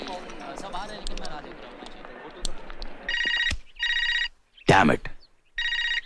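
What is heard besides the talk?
telephone ringing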